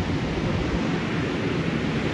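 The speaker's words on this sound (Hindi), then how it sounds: "देखो पानी का शोर चेक करें" Fast-running river water near Naran, a steady, full broadband roar that holds at an even level throughout, with no voices.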